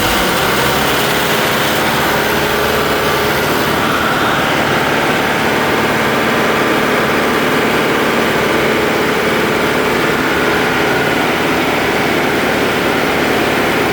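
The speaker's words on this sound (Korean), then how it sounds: "토출 밸브 잠그고 엔진을 돌려보도록 하겠습니다" A fire pump engine at a commercial building runs loudly and steadily up close, a continuous droning roar that holds level throughout with no talk.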